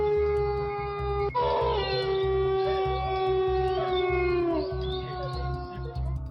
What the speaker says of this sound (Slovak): počuť rozrušených psov, ktoré zavíjajú na znak toho, že niečo nie je v poriadku